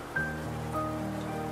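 Light, steady rain falls as a soft continuous hiss, a radio-drama effect heard under sustained musical tones throughout.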